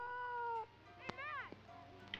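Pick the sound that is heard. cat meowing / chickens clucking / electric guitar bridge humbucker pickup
cat meowing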